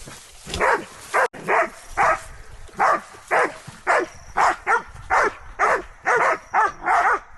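A dog barks over and over in a steady run of loud, close barks, roughly a dozen in quick succession.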